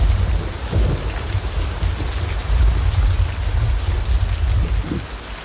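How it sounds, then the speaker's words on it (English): Heavy, constant video game rain pouring down with deep rumbling underneath, loud and unbroken throughout, ending abruptly. "that was an abrupt end to the rain"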